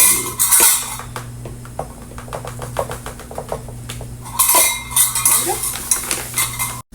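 Coconut sugar spooned into several containers, with light metallic clinks and taps of a spoon against the containers in a quick, uneven series over steady background hum.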